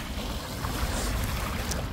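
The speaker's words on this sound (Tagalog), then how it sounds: "Ang lakas ng alon ngayon." Strong sea waves churn in a dense, low rumbling wash mixed with wind buffeting the microphone, continuous throughout the short stretch.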